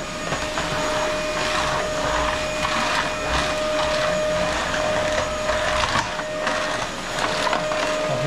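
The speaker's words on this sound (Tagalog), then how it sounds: "Saka dito sa kusina, kailangan natin i-vacuum." A vacuum cleaner runs steadily in a kitchen, a loud continuous whine with a sharp tonal hum and rough suction noise that holds for the whole stretch with slight surges, no voices.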